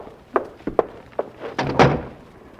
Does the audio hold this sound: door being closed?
yes